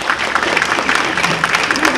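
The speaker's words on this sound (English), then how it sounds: "I want a round of applause for Lynn" An audience applauds speaker Lynn with a short burst of steady, fairly loud clapping from many hands, with no talking over it.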